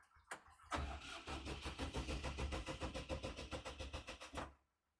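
A Fighter T254C mini tractor engine is cranked and catches, then runs with a steady, rapid diesel chug for several seconds before cutting off; close and loud, with no talking.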